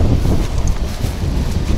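Strong wind buffeting the microphone in a garden, a loud rumbling whoosh that gusts unevenly throughout.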